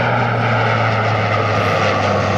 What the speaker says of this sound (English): We always get a little bit of noise out here from some kind of vehicle.